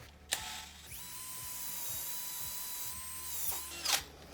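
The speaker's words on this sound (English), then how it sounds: "You can see it is harder to get it to go through the metal." A drill whines steadily for a few seconds with sharp clicks and bursts at the start and end, grinding as it bites into metal.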